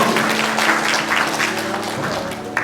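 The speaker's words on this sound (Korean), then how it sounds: "우리 큰 박수로 환영해 주시면 감사하겠습니다" Congregation applause welcoming people during an Easter Sunday church service, a loud, even wash of clapping from many hands held steady throughout, close and full-room.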